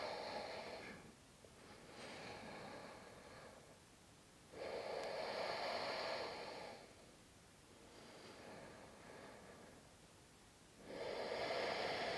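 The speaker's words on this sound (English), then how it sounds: "Slowing down your breathing." Slow, deep breaths during a power yoga flow, drawn in long, even cycles of inhale and exhale that rise and fall in loud, close, breathy swells with no talking.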